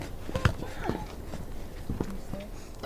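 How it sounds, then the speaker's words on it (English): A horse named Ra led on foot toward a horse trailer, a few irregular hoof clops close by with soft shuffling between them, under a voice speaking. "Linnea walks Ra over towards the horse trailer."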